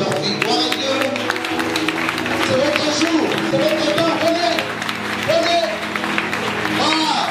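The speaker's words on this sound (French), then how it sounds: "on acclame le Seigneur pour leur vie" A church congregation in Martinique applauding during a service, sustained clapping mixed with crowd noise and continuous talk over it, with music tones running underneath.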